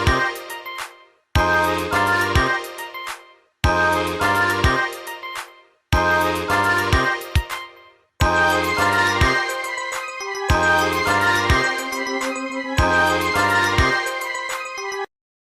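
A bright, upbeat Motorola Razr ringtone melody repeats in short looping phrases, loud and clear with brief gaps between each cycle.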